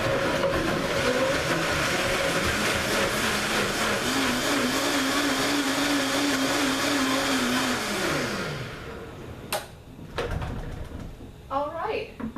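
A countertop blender purees thick salsa with little liquid while a tamper pushes it down, roaring steadily and loud with a shifting motor pitch, then winding down; a few clunks and a voice follow after it stops.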